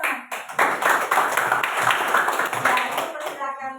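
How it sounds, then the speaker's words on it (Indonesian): Students in a classroom clap together after a group presentation, a brisk burst of many hands that swells quickly, holds for a few seconds and thins out as a voice returns at the end. "Tepuk tangan."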